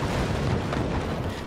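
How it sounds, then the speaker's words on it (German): Cannon projectiles slamming into a ship in a naval fort-battle game, a dense rumbling burst of impacts and booms over about a second and a half, loud and continuous. "Jetzt kommen die nächsten Projektile rein"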